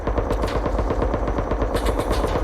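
Sustained rapid automatic gunfire in the survival game Rust during a scrap helicopter fight, dense, evenly spaced bursts of shots, loud and continuous for the whole stretch.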